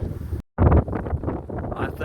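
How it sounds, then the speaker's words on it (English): Gusty wind buffets the microphone outdoors at Sand Point Park at night, a steady rough roar with a brief dropout, running beneath a person talking. "It's getting really windy down here."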